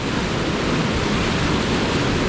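A Wayanad waterfall with clear water pouring into a natural pool, its steady broadband roar loud, close and unbroken, with no voices over it.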